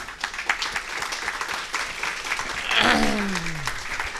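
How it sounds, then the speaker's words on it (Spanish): A university audience applauds its teachers in a sustained, moderately loud round of clapping, with a voice and a brief tonal sweep rising through the sound near the end. "lo primero que quiero pedirles es un aplauso para esos docentes"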